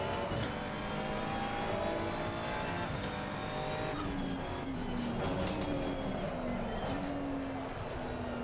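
A Ferrari 296 GT3 race car in Assetto Corsa Competizione at Valencia, its engine droning loud and steady with rising and falling revs through gear changes, heard close from onboard.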